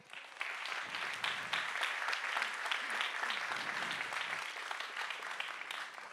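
Audience applause at a science slam during Berlin Science Week 2023, with dense, steady clapping from a sizeable crowd filling the whole stretch at an even, full volume and no talking.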